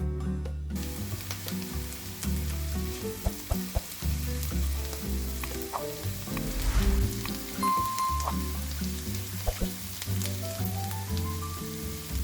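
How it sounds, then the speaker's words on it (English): Chopped red peppers sizzle steadily in a hot pan while being stirred, giving a continuous close frying crackle with occasional scraping, and music plays in the background. "Add the chopped pepper to the pan and stir well so everything cooks evenly."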